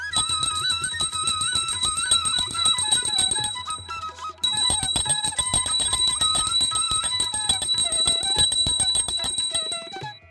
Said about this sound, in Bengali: আর গপুকে খাবার দেওয়ার পর সব সময় ঘন্টাটা অবশ্যই বাজানো দরকার।